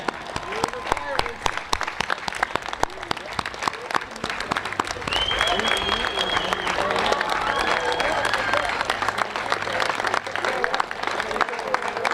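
Audience at a Warren County Technical School graduation ceremony gives a round of applause, fairly faint and distant, with crowd murmur, a voice and some tonal sounds mixed in.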